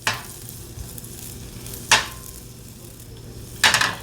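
Butter sizzles in a frying pan at breakfast, a steady soft hiss with a few sharp scraping accents, close and alone without talk.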